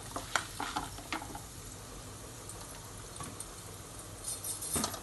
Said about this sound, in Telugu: జీడిపప్పు కూడా వేగుతూ ఉండాలి.